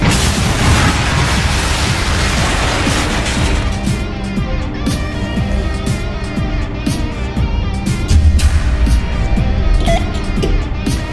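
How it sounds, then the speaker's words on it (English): A reactor explosion in a Roblox Innovation Inc. thermal power plant game roars as a loud, dense rumbling blast filling the opening seconds, then settles into a sustained heavy low rumble with scattered crackles and bursts throughout. "Explosion event."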